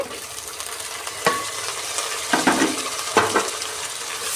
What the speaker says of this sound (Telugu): ఒక ఐదు నిమిషాలు బాగా ఫ్రై చేసుకుందామండి